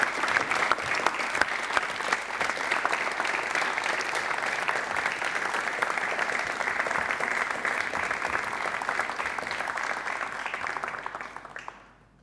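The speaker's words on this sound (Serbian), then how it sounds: "Molim aplauz za 3, 2," A television studio audience on the Ćirilica talk show breaks into sustained, dense applause that holds evenly for about twelve seconds before quickly fading out, with no voices above it.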